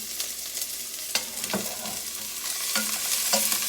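Half a chopped onion sauteing in two tablespoons of hot oil for chicken tortilla soup, giving a steady close sizzle with repeated scraping stirs that grows slightly louder, and no speech.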